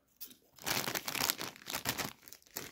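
Crisp crinkling and crunching of a chili-lime Lulu Puffs snack bag being handled up close, a steady run of loud rustles with no voices.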